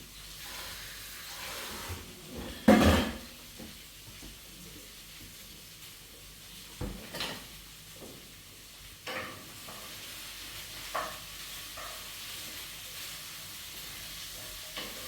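Harder vegetables hitting a hot pan on the stove and frying in a steady soft sizzle, with a few louder hissing bursts and stirring clatters as they are moved around.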